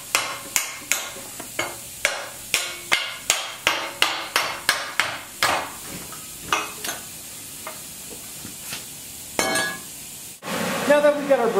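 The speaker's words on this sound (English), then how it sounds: "I'll take a hammer and just kind of knock some things loose," A hammer knocks slag loose from plasma-cut steel, striking about sixteen sharp metallic blows in a fairly regular rhythm, close and loud, followed by a few scraping knocks and a short burst of other workshop noise at the end.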